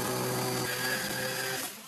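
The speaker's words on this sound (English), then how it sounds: "We use a cutting tool to cut the PVC reducing connector." A power cutting tool spins through a PVC reducing connector used for a bathroom drain fix, giving a steady high-pitched whine with a grinding edge that holds close and loud for nearly two seconds before easing off.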